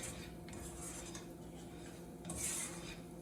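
Garlic stirred into melting butter in a pan for Alfredo pasta, quiet utensil scraping and clinks against the pan with a soft hiss underneath, brief brighter rattle near the end.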